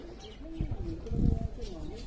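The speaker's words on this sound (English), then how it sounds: "We've got some parrots." Parrots kept as pets in a small place make soft, low cooing calls that come and go in short bursts, fairly close, with faint background noise and a murmur of voices.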